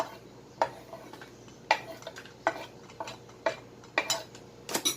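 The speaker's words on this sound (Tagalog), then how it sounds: "Yung sili, yung onion, i-mix together lang natin yan." Chopped chili and onion being mixed together for tokwa't baboy, a spoon or utensil clinking and scraping against a bowl in irregular sharp taps over a quiet background.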